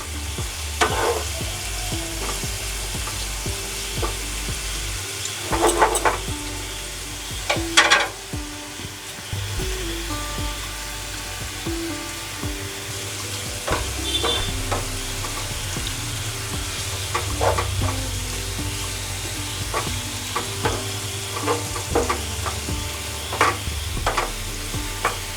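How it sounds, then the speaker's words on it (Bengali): Onions fry in a pan with a continuous soft sizzle, broken by repeated scraping strokes as they are stirred slowly, close by and without talk. "একটু সময় নিয়ে আস্তে আস্তে পেঁয়াজটাকে ভাজতে হবে। ব্রাউন কালার হওয়া পর্যন্ত আমি ওয়েট করব, আর এইভাবেই নাড়তে থাকবো আস্তে আস্তে।"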